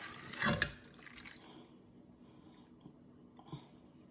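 Strained hot pepper juice poured for homemade hot sauce, heard as a short close liquid splash near the start followed by faint trickles and a small drip or clink, quiet overall.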